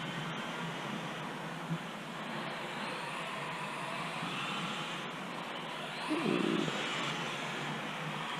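Tamiya TT-02SW RC touring car driving on a track, a steady mid-range electric motor whine with throttle swells, louder surge near the end, no talk.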